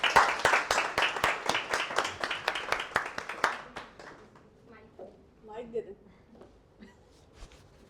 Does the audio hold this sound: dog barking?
no